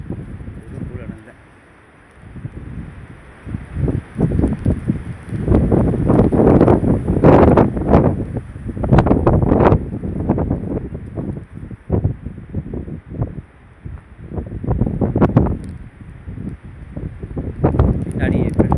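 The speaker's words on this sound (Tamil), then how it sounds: "மழை பெய்யுது பயங்கரமாக, காற்று அடிக்குது." Heavy rain and strong wind heard from a rooftop, a steady loud wash of broadband noise with gusty wind buffeting the microphone in surges throughout, with a voice talking over it at times.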